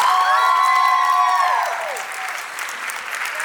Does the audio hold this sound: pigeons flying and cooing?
no